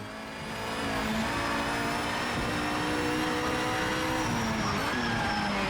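A racing car in the Project Motor Racing video game drones at steady high revs, engine and gearbox whine blending into a continuous loud tone that swells in at the start and holds without a break.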